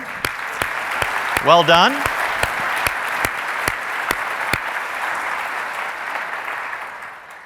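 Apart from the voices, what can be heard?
audience applause at TEA Summit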